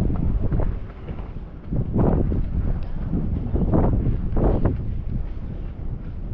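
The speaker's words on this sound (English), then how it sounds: "Very windy day today." Strong wind at Sydney Harbour buffets the microphone in a constant loud roar, gusting and rumbling without pause throughout.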